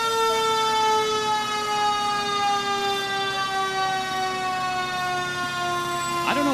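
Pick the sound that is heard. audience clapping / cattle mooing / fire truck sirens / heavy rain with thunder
fire truck sirens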